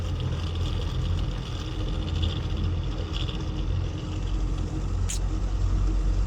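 A broken-down Tata vehicle's engine runs rough with a heavy, uneven low rumble, loud and close throughout, with a brief sharp squeak near the end.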